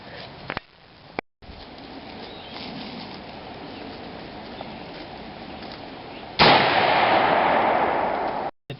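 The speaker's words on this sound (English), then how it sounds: "I fired again to see if it goes through the steel plate" A .30-06 rifle is fired outdoors at a steel car door. A couple of sharp cracks come early, then a loud, sustained blast with a long rumbling roll runs near the end.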